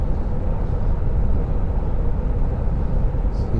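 A car cruising at about 70 on a sunny tree-lined road between Herne Bay and Faversham, heard as a steady loud low rumble of engine and tyre noise that holds constant throughout.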